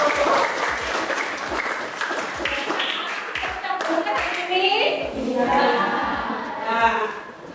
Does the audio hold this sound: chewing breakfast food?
no